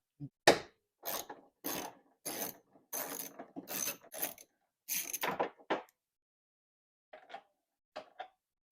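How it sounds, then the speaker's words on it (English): A ratcheting tool clicks in quick repeated strokes while a screw is backed out of a Chevy Cobalt headlight assembly, close and crisp, with a pause then a few lighter clicks at the end. "Now we're going to take that screw out right there."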